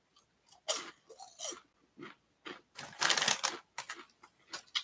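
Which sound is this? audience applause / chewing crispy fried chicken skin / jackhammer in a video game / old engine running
chewing crispy fried chicken skin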